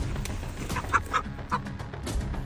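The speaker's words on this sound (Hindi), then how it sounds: "इन मुर्गियों ने इतना शोर क्यों मचा रखा है?" Chickens cluck and squawk in short, excited bursts close by, several calls in quick succession over a busy background with no talking.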